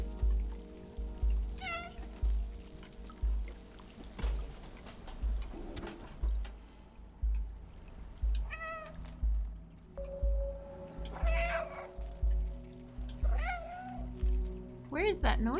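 In the video game Stray, a cat meows several times at uneven intervals, some calls short and some drawn out, over a low rhythmic pulsing background.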